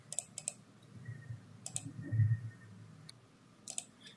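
Quiet, sharp computer mouse clicks come in small clusters: a quick pair at the start, a single click, and another pair near the end, with faint low room hum in between.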